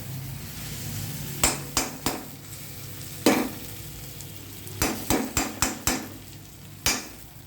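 A cooking utensil rapped against a pan to knock off mint stuck to it while making mint chutney, a series of sharp metallic knocks, single and then in quick clusters, over a soft background hiss.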